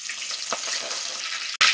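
Curry leaves, washed and drained, hit hot oil over a low flame, giving a steady close sizzle with a crackle partway through and a sharp burst of spattering at the very end.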